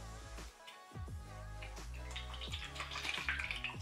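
Liquid sloshes and gurgles inside a leak-proof Gemice silicone travel bottle, with close, irregular watery knocks and splashes that build toward the end.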